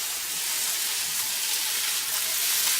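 Vegetables sautéing in olive oil in a pan for couscous give a steady, close hiss and sizzle that holds evenly throughout without a break, with no voices.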